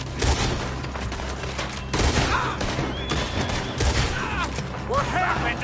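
Rapid gunfire crackling through a shootout in Red Dead Redemption 2, with repeated bursts of shots and booms roughly every couple of seconds over a busy background, and a voice speaking amid the fight.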